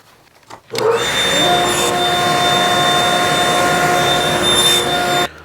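A power saw cuts a pass through wood for a shoji lamp panel: a sudden loud start, then a steady whining roar held for several seconds before it stops sharply.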